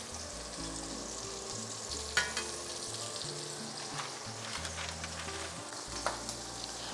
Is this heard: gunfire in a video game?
no